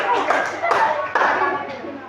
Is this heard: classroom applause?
yes